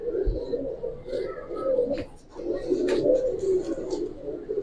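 Long-feathered Giribaz pigeons coo nearby in low, continuous rolling murmurs, several throaty phrases overlapping with faint background rustling and no clear speech.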